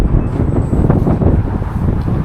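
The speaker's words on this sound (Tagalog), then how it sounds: "Pero grabe, napakalakas naman ng hangin." Strong wind gusting outdoors in a parking area in Canada, a loud, steady low rumble buffeting the microphone throughout with no pauses.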